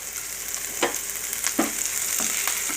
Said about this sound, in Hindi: इन सभी को थोड़ा सा मैं भून लेती हूँ